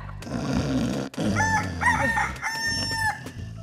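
A rooster crows loudly and close in the morning, a single drawn-out call with rising and falling notes, preceded by a few low clucks.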